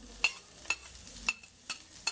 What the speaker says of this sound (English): after the onion and the curry leaves saute up for a minute and a half, add your pimento peppers,